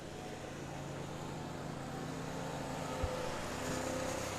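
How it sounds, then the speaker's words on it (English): Engine drone of lawnmowers running along a street near a tennis match, a steady low motor hum held throughout at moderate distance, with one brief thump near the end. "There goes the lawnmowers down the street."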